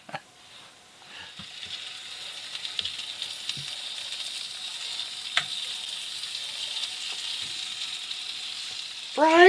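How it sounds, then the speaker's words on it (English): Fried Spam and bacon sizzle in a pan at a campsite near the Oregon coast, a steady crackling hiss with scattered pops and scrapes, rising slightly in intensity toward the end. "Fried spam with bacon!"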